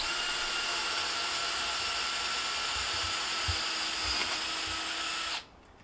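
A power drill with an 8mm bit bores M8-size pilot holes through wooden van framing, whining in one continuous steady run for several seconds before cutting off abruptly near the end.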